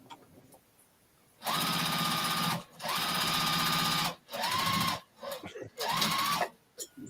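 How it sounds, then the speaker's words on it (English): Sewing machine stitching leftover quilt squares together in three long, loud runs with short pauses between, motor whine steady and close, followed by a shorter burst. "I'm just sewing some leftover squares together so I have something to practice on"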